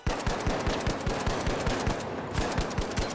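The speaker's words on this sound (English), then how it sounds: "He's got a shotgun." Shotgun fire in the video game THE FINALS, a fast, evenly spaced string of sharp shots repeating for the whole stretch, loud and close, with no talking.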